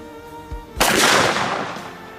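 A single loud gunshot from a Smith & Wesson Performance Center revolver with a 10.5-inch barrel, firing Underwood 440 grain hard cast ammunition, bursts sharply and then trails off in a long decaying rumble.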